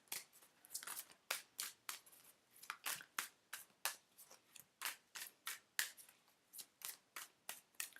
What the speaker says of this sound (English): let's just pull some cards.